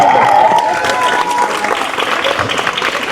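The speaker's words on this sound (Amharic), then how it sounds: "ለሙሴ ሰለሞን አጨብጭቡለት" A crowd applauds at Muse Solomon's 24th birthday celebration: steady, dense clapping that holds for about three seconds, with a brief whistle-like tone at the start.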